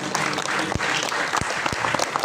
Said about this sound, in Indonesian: Tepuk tangan buat Tuhan yang dahsyat.